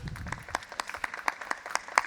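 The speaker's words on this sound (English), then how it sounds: "Round of applause, please, for our speaker." A small audience at a Julia programming talk offers sparse, scattered claps for the speaker, a handful of distinct hand claps spaced through two seconds in a quiet room.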